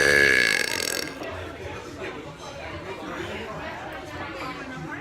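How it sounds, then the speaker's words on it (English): One loud, drawn-out burp opens the clip and lasts about a second, followed by quieter background chatter and talking from several people. "today I'm doing clouds burping."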